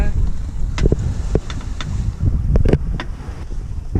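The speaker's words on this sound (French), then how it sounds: "On a le courant contre nous, alors on est content de cette petite rafale là" A gust of wind hits a sailboat at sea, rough, close buffeting and rushing against the microphone with low rumble and scattered knocks on board.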